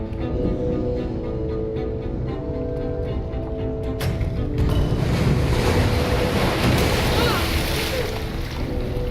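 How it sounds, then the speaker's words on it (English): Rushing water from waterfalls released by pressure plates in Minecraft Story Mode Season 2, a loud, steady wash that swells midway over sustained low tones. "Those pressure plates release waterfalls upstairs."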